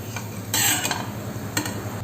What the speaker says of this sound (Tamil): இஞ்சி நம்ம எண்ணெயில் வறுக்கும்போது முருகி வர்றதுக்கு குறைஞ்சது ஒரு 3 minutes ஆகுங்க